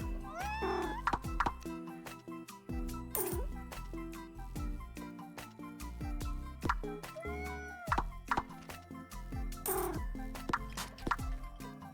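A cat in the video game Minami Lane meows repeatedly while being petted, short chirpy cries scattered among soft clicks and bright game effects over light background music.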